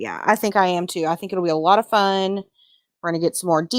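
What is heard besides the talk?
None of the usual background noises is heard.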